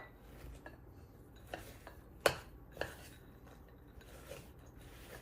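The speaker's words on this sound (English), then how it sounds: "So then we will mix in the pecans." A spoon stirs pecans into an appetizer mixture in a bowl, making quiet irregular scrapes and clinks, with one sharper knock standing out, close and without talk.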